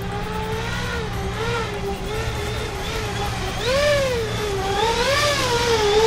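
An E-Flite EC-1500 RC cargo plane's electric motor whines under throttle, its pitch sliding up and down in waves as power changes, steady and fairly loud against a low wind rumble.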